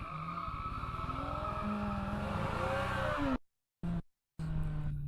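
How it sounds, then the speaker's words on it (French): A 2021 Kawasaki Z900 motorcycle burning rubber in a controlled skid with traction control on, loud sustained tire squeal over a droning engine, cut off abruptly near the end with brief gaps. "on faisait cramer la gomme tout en ayant le contrôle de traction activé, c'est-à-dire des dérapages"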